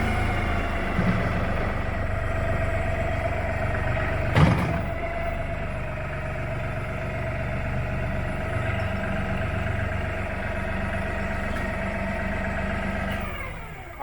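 A backhoe tractor engine runs at a steady, close, droning idle with a low rumble, one brief clunk partway through, and the engine tone easing slightly near the end.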